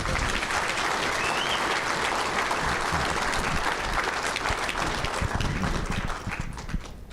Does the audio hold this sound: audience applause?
yes